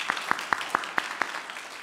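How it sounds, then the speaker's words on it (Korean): Church congregation clapping to welcome a visitor, a few sparse, evenly spaced claps ringing out over a quiet room. "박수로 환영하고 있습니다."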